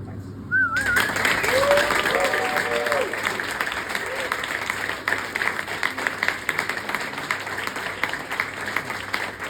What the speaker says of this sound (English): Please keep the applause going for Joshua.